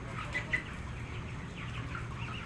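Large chickens crowded into a farm poultry house, their soft clucks and calls scattered over a steady hum of indoor ventilation, with no voices.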